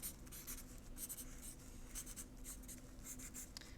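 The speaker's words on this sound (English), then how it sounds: "let me go over with my pencil" Pencil drawing flower petals on paper, quick scratchy strokes in short repeated bursts, soft and close, with no talking.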